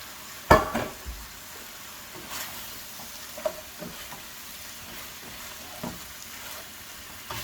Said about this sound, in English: I'm going to throw in the onions, mushrooms, and everything else